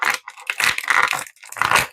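WWE action figure packaging handled up close, quick bursts of crinkly plastic and cardboard crackling in short irregular clusters.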